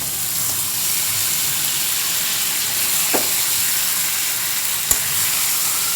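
Bombay duck (lote fish) sizzles steadily in a hot pan, a constant broadband frying hiss throughout with a couple of brief clicks from utensils, no voices.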